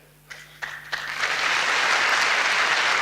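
Audience applause at a Forever Living India success day event in Mohali, starting with a few scattered claps that swell quickly into loud, sustained clapping from a large crowd, with no voices over it.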